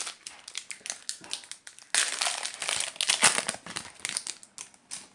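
Trading card booster packs being torn open and handled, giving steady crinkling and crackling foil wrapper noise that turns louder and denser partway through, close up with no talking.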